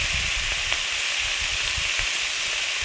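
Banana flower and ginger sizzle steadily in hot oil in a pan, a dense continuous hiss with faint stirring scrapes, close and even throughout.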